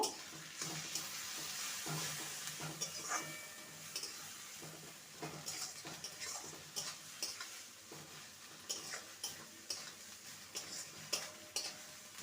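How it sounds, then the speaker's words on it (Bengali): Cauliflower leaves with turmeric being stirred in a pan, a soft steady sizzle with repeated scraping taps of a spatula throughout, close and moderately quiet. "দিয়ে দেবো সামান্য হলুদ গুঁড়ো ভালো করে নেড়ে নেব"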